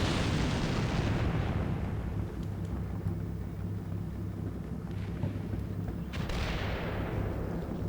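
Heavy artillery rumbles in the Combat Mission Cold War game, a sustained deep roar of distant shelling with rolling booms and a swelling blast near the end, dense and continuous.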